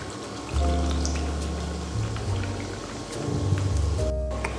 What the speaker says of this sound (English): So now we're just going to open up the soda water and pretty simply just pour it in.